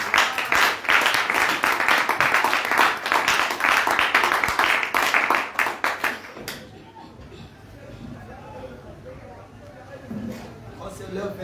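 A church congregation claps in steady rapid applause for about six seconds, dense and close, before it fades into quieter room murmur with faint voices.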